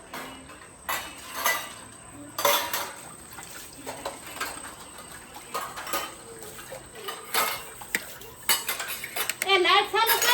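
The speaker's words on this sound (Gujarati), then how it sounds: "બેન ને છે ને વાસણ ધોવે છે" A woman washes dishes at home, with steel utensils and pans clinking and clattering intermittently at a moderate distance over a soft background hum.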